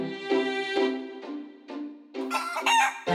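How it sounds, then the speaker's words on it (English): A rooster-like chicken call comes from a cartoon watermelon in a children's animated show, a series of loud, close clucks and squawks that ends in a rising crow-like burst. "That watermelon just clucked like a chicken."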